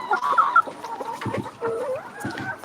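Chickens on a poultry farm clucking in a busy, overlapping flock chorus, with irregular calls close by and steady through the whole stretch.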